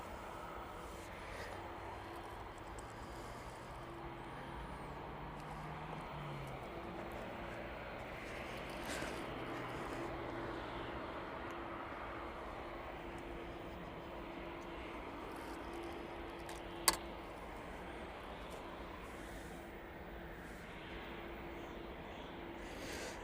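An airliner arriving from Miami at East Midlands Airport, heard as a broad, steady jet roar that holds at a moderate distance throughout, with a faint voice briefly present.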